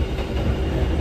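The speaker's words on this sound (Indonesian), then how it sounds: "kalau kereta yang New Image itu emang terkenal berisik banget teman-teman" Inside a moving New Image model train, a loud, constant rumble and rattle fills the carriage, a dense steady roar with no pauses and no voices.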